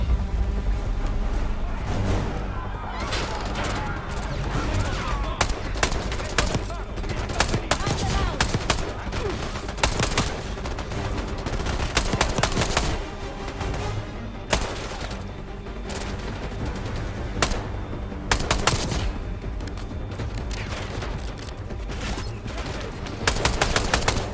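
Sustained gunfire in Call of Duty Black Ops 6 on PS5, with dense overlapping bursts and heavy shots rattling on for the whole stretch, loud and close, with faint voices under the din.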